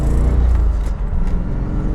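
A Chevrolet Corvette C4 with an LT1 engine out for a drive, its low engine rumble steady and close with road noise, no talking over it.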